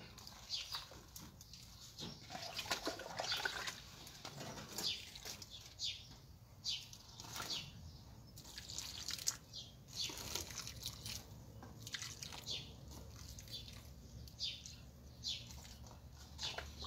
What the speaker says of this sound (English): And then we need to water.